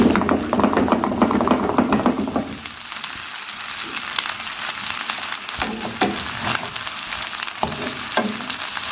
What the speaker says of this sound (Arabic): نديله كده تقليبه بسيطه، يعني مش كتير، مبحبش اقلب في السجق الصراحه بالزيت